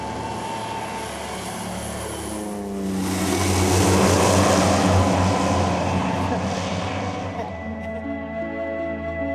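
A small propeller cargo plane at the Siangboche airstrip in the Everest region drones steadily, swelling louder as it passes nearby and then fading, with faint talk in the background.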